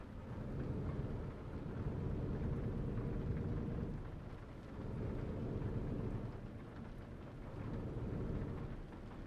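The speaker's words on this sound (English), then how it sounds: "And amazingly, still raining." Rain in the Euro Truck Simulator video game, a steady wash of falling rain with low rumbling swells that rise and fall in slow waves like distant thunder, soft and continuous with no talking.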